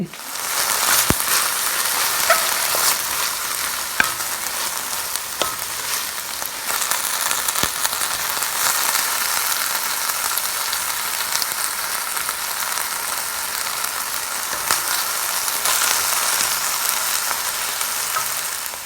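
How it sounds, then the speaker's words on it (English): Vegetables sauté in oil in a Le Creuset 7.5-quart pot, a loud, continuous crackling sizzle with scattered sharper pops and taps of stirring throughout. "I saute them so that it gives more flavor to the soup"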